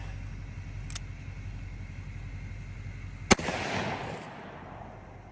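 A single loud .44 Magnum revolver shot cracks outdoors into a milk jug, followed by a brief splash-like burst of noise; a fainter sharp click comes earlier over a steady low background.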